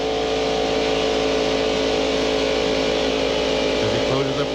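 A NASCAR stock car engine at 6,800 RPM during the 1995 Pepsi 400, a loud sustained high-revving drone with steady pitch, under continuous commentary.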